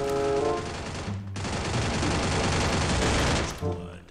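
Gunfire in the Free Fire video game: a loud, sustained stream of rapid automatic shots with a brief break, heard alone without voices.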